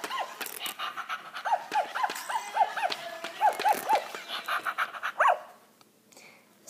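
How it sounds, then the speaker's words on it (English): A toy puppy doll gives a series of short, squeaky electronic barks in quick succession, moderately loud and close, separated by brief mechanical whirring and pauses, ending with one higher bark before going quiet. "See, she just barks."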